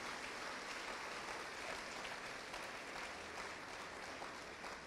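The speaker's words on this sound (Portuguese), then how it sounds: "pode aplaudir" A church congregation claps after a sermon, a steady, distant wash of applause from a large crowd that holds evenly for several seconds without talk.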